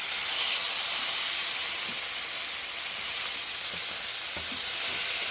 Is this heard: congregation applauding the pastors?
no